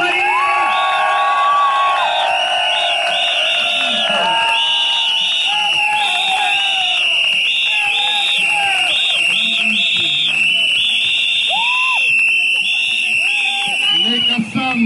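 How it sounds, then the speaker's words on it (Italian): A big crowd in a town square in Calabria cheers, whoops and applauds at a Poste Italiane postal workers' general strike rally. The roar is loud and continuous, with shrill tones and horn-like blasts running throughout. "fateci sentire il cuore della piazza con un applauso"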